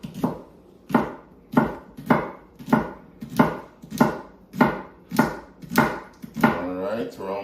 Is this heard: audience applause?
no